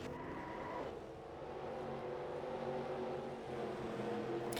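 Stock cars from the 2007 Cup set in NR2003 career mode roar in a steady, continuous engine drone during a wreck, with a brief squeal at the start.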